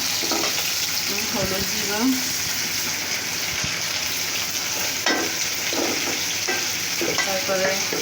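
Onions frying with salt in a pan on a stove, with prawns and vegetables cooking nearby, give a steady close sizzle broken by scraping stirs, while someone talks over it.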